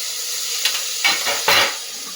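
Small chopped tomato pieces added to frying onions in a pan for a cauliflower curry, giving a steady close sizzle with a few sharp stirring scrapes and hissing bursts.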